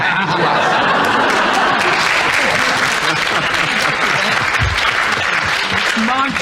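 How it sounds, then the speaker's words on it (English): Studio audience of a panel game clapping steadily and loudly throughout, a dense continuous patter with a few chuckles and voices mixed in. "the audience are clapping"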